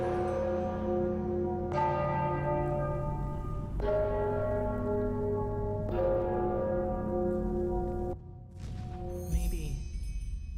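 Deep bells toll in the video game Enderal, a Skyrim mod, four slow, evenly spaced strikes with long ringing decays that overlap. A softer, higher tone follows near the end.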